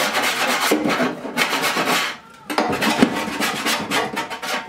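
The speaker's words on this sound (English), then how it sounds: "I'm going to scrape this out of here really quick." Old dirty beeswax scraped out of a metal turkey roaster, loud close rasping strokes in quick repeated bursts, with a short pause midway before the scraping resumes.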